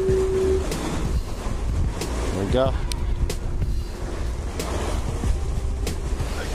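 Ocean waves and wind at a shoreline, a constant broad rushing roar with gusty microphone buffeting, a voice speaking briefly over it.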